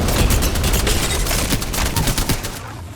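A Spitfire light machine gun fires in Apex Legends, a loud, dense burst of rapid automatic shots rattling continuously for about two and a half seconds before cutting off.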